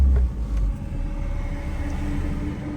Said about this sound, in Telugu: అక్కడ బస్సు వస్తుంది